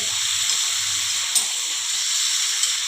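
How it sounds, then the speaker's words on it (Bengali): Steady hot-oil sizzling of chicken frying, with a constant bright hiss, a couple of faint pops breaking through, no voices. "তেলটা যেটা ভাজা হচ্ছে সেটা ছিটকে বাইরে"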